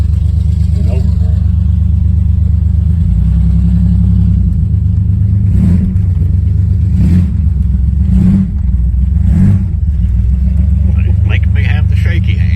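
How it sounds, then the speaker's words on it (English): A car with a blown-out muffler idles with a loud, deep, throbbing exhaust rumble that swells in several revs, close by, with people talking over it. "we gotta get that muffler fixed. Yeah, that thing's loud."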